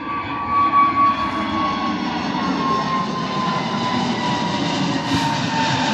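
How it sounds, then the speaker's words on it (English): An Airbus A320neo airliner approaches Bristol Airport in fog, heard as a steady, continuous jet roar with a faint whining tone. It holds at an even, moderately loud level throughout, with no talking. "here's that A320 Neo coming. Wait and see it, but we'll hear it."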